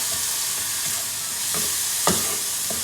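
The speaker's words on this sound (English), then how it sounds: "So I'll be sauteing the onions and the garlic for a bit until they are slightly brown." Onions and garlic sauteing in a hot pan give a steady close sizzle, with a few soft stirring scrapes cutting through it.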